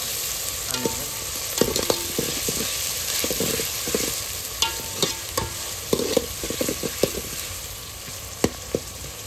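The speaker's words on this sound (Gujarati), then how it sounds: "હવે આ ડુંગળી નાખી દઈએ" Onions fry in a pan with a steady, close sizzle, broken by frequent sharp clicks and scrapes of a stirring spoon against the pan.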